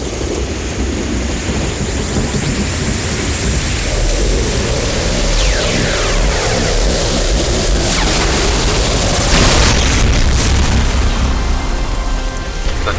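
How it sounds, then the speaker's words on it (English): An ion cannon strike in Command & Conquer Renegade erupts as a loud, sustained roaring blast with crackling, swooping energy sweeps and a rumbling surge near the end, dense and continuous. "Prepare for ion cannon strike."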